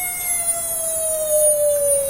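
A VEVOR 20-ton air hydraulic bottle jack being released, its heavy springs pulling the ram back down, gives a steady loud siren-like whine that slowly drops in pitch, no talking.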